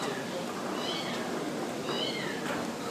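A stranded cat stuck up high gives two faint meows spaced about a second apart, heard through heavy outdoor background noise during a rescue.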